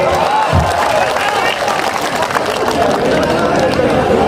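Dense, steady clapping from a large crowd at Navjot Singh Sidhu's political rally speech, loud and continuous throughout with cheering and crowd voices mixed in.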